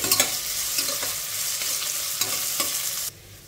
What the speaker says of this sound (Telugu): ఇప్పుడు వీటిని ఒక 2 నిమిషాలు ఇలా మీడియం ఫ్లేమ్లో కలుపుకుంటూ ఫ్రై చేసేసుకోవాలి